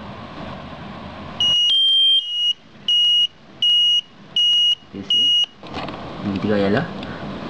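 A wireless smoke detector on a sound-only test gives five loud, sharp electronic beeps in an even rhythm, followed by a short burst of room noise.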